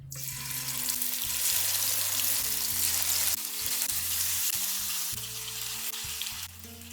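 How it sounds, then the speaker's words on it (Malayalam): Chicken pieces fry on a medium flame with spices for a Kerala-style chicken roast, a continuous loud sizzle running under a low humming tone that shifts in pitch. "നമ്മുടെ ചിക്കൻ ചേർത്ത് കൊടുത്തിട്ടുണ്ട് ഇനി ഇത് മീഡിയം ഫ്ലെയിമിൽ മൂന്ന് മിനിറ്റ് ഒന്ന് ഫ്രൈ ചെയ്തെടുക്കാം"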